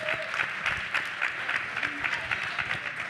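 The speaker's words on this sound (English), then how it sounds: "Let's give him a round of applause." An audience at a National Action Network convention in 2022 applauds for a youth director, steady dense clapping that holds evenly for about three seconds with no speech over it.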